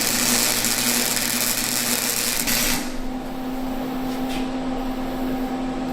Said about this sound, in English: Keep welding on this.